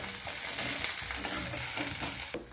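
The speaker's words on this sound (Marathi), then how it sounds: "आलं कोथिंबीर कढीपत्त्याची पानं आणि हिरवी मिरची या सगळ्यांचं आपण एक छान वाटण तयार करून घेतलेलं होतं ते यामध्ये टाकून घेऊया आणि थोडंसं त्याला कच्चापणा जाईपर्यंत त्याला परतून घेऊया" A ground paste of ginger, coriander, curry leaves and green chilli sautéing in a pan for a Vidarbha-style dal dodka, with a close, steady sizzle broken by repeated scraping stirs, no talking.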